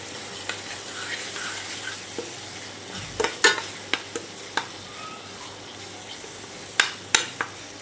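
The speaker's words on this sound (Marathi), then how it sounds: "सोबत 1 चमचा लसणाचं पेस्ट, हे छान मिक्स करून घेऊया।" A spoon stirs coconut masala paste and garlic paste in a hot pan with a low steady sizzle and scattered scraping clicks, sharper knocks gathering later; close and fairly quiet, with no talking.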